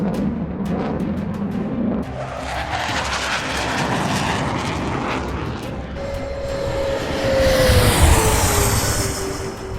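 Roar of a B-1B Lancer supersonic bomber's jet engines, a loud, steady broadband rumble that swells near the end with a descending whine, like a pass overhead.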